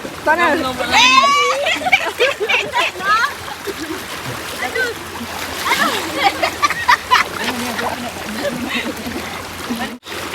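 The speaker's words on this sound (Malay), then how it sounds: "sekarang kita berada di dalam sungai" River water splashes and sloshes continuously while several people talk and call out nearby, voices often louder than the water.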